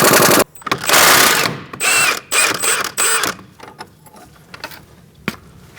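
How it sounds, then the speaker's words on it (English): Wrench and 22mm socket turning the top strut bolt on a 2002-2006 Toyota Camry during front CV axle replacement: loud bursts of clicking ratchet and metal clatter for the first seconds, then quieter scattered ticks and clanks. "Now we're going to put a wrench on the head side and a 22mm socket on the nut side."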